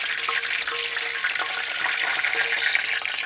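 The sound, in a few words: chebureki frying in oil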